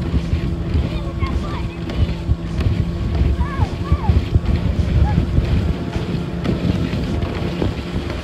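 Motorboat ride around Pulau Pangkor island, a constant close engine rumble with wind buffeting the microphone and water splashing, while people talk and exclaim throughout.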